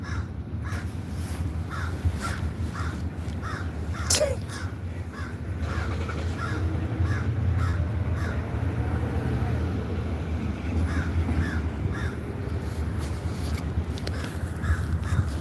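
A crow caws over and over in a steady run of short harsh calls, moderately distant, against a constant low rumble of background traffic or engine noise.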